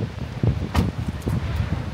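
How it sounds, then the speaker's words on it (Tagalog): Strong wind buffets a campsite, a steady rough rumble with gusts that swell and fade, close to the microphone and heard alone. "Sa lakas ng hangin."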